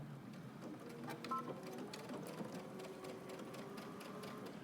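A sewing machine runs a long 5/8-inch seam down a pants leg, its needle whirring in a steady, quick mechanical chatter, close and fairly quiet, without pause.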